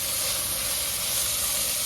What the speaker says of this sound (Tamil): எல்லாம் சேர்த்து ஒரு 2 நிமிஷம் இந்த வெஜிடபிள்ஸ் வதக்கிக்கலாம்.